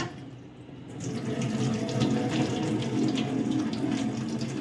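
Taro leaves are washed under a running tap, a steady close splashing gush of water that swells after the first second and continues evenly, with no voices.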